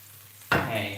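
A boneless carp fillet drops into plenty of hot oil in a non-stick pan and starts to sizzle. The crackle rises abruptly and then holds steady, close and fairly loud.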